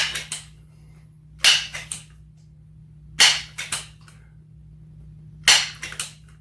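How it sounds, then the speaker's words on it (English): Xisico Hercules B5-10 .177 multi-pump air rifle being cocked and pumped, with three sharp, loud metallic clacks, each followed by a softer click, spaced about two seconds apart with no voices. "Cock it, pump it up."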